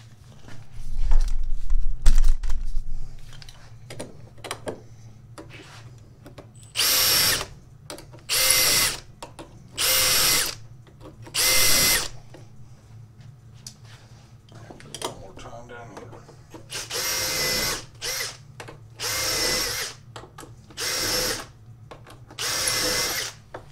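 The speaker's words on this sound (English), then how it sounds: "And that pre-drills all our holes." A power drill pre-drills holes for a door jamb in a series of loud, close bursts, several short runs spaced by pauses, with quieter handling noise and brief talk between them.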